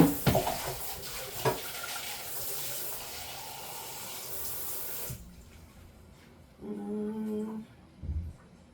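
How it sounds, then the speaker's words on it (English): Half a cup of water pours from a tap or cup into a pot of black-eyed pea rice, a steady broadband splashing stream for about five seconds, followed by quieter kitchen clatter and a brief low thump near the end. "So I'm just gonna come in with half a cup of water on this."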